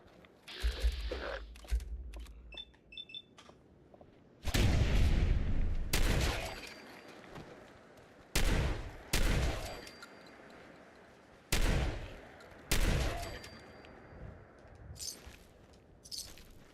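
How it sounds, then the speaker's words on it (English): Loud shotgun blasts in a video game, several heavy booms spaced a few seconds apart, with mechanical clicking and ratcheting of reloads between shots. "Oh, I need a shotgun for this one."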